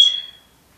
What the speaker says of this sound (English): oh, that's my fire alarm.